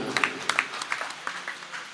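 Audience at a religious discourse at a temple clapping, a brief scattered round of applause with distinct individual claps fading and thinning out, no speech over it.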